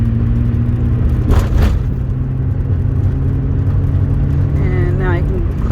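Manual-transmission car engine idling steadily as the clutch is let out and revs are held above 2,000 rpm, a constant low hum with a brief thump partway through and a faint rising whine near the end.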